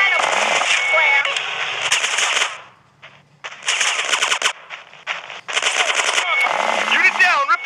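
Gunfire in GTA San Andreas: loud, close bursts of rapid automatic fire in several long volleys separated by short lulls, mixed with shouted game voices.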